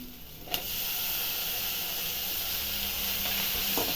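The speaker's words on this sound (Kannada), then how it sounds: "ಸ್ವಲ್ಪ ಫ್ರೈ ಮಾಡ್ತೀನಿ ಈರುಳ್ಳಿ ಬೆಳ್ಳುಳ್ಳಿ ಇದೆಲ್ಲ ಸ್ವಲ್ಪ ಫ್ರೈ ಆಗೈತೆ ಟೊಮೆಟೊ ಹಾಕ್ತಾಯಿದ್ದೀನಿ" Onion, garlic and tomato fry in hot oil for goat leg paya soup, a bright steady sizzle with a sharp clatter near the start and faint stirring scrapes, no voices.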